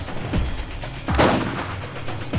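A rocket launcher fires in the video game Borderlands with two or three loud, punchy blasts over a dense, roaring in-game din, close and forceful.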